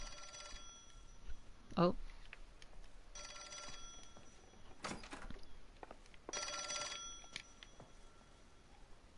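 A telephone rings in the L.A. Noire video game, with repeated bell bursts separated by pauses, while a voice briefly reacts and there are other small game noises.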